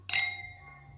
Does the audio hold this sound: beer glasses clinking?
yes